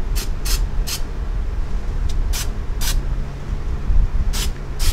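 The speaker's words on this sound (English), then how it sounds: "I might add some weld through primer on the backside here" Weld-through primer sprayed from an aerosol can onto the backside of a Jeep Cherokee XJ rocker panel: several short hissing bursts over a steady loud background rumble, close by.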